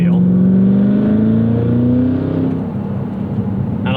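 Engine of a 2024 Cadillac CT5-V Blackwing revs up on track during heel-toe downshifts, a loud, steady rising drone that climbs in pitch, then settles lower near the end, with a voice speaking over it.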